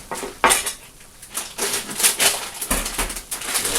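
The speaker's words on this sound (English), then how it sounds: "So we'll add our pasta." Pasta poured into a pot of salted, rolling-boiling water for goulash, a close rush of dry pasta clattering into the metal pot with clinks and rattles, no voices.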